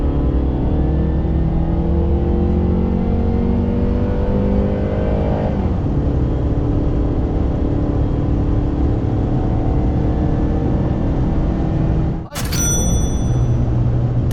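Chevrolet MW 1.3 L naturally aspirated car accelerating hard from 60 to 120 km/h on a highway, a loud steady engine drone climbing in pitch with a gear shift midway, cabin road roar throughout.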